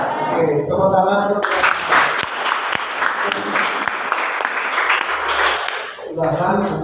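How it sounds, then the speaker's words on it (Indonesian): A youth training group bursts into loud, dense applause after a spoken cheer, the clapping cutting off before speech resumes near the end; voices are heard before and after. "Tepuk tangan."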